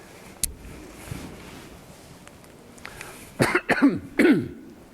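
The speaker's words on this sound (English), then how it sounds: "that's me coughing, sorry about that" Several close, sharp coughs in quick succession after a quiet stretch with faint background rustle, one person coughing alone.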